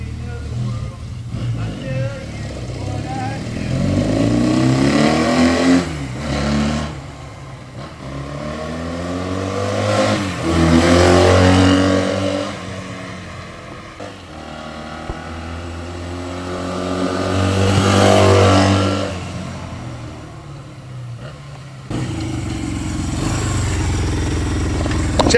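A classic red Honda SL175 twin-cylinder enduro motorcycle engine idles and revs, rising and falling in several loud throttle bursts, with someone talking over part of it.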